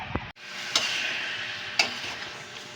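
Isaw, pork intestines, browning in a pan for adobong isaw, giving a steady, faint, broad sizzle with a few sharp ticks and pops of stirring.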